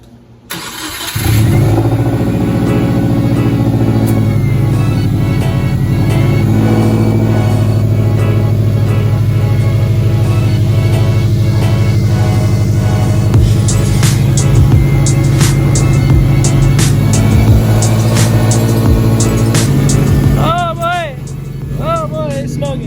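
A Subaru Forester engine freshly fitted with a swapped turbo revs loud and close, holding a strong, steady roar for about twenty seconds before easing off near the end, with a brief voice at the close.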